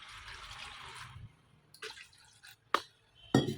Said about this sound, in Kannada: ಅದರೊಳಗೆ ಸ್ವಲ್ಪ ನೀರು ಹಾಕೊತೀನಿ, ಅಂದರೆ ವೆಜಿಟೇಬಲ್ಸ್ ಬೇಯಿಸೋದಕ್ಕೆ.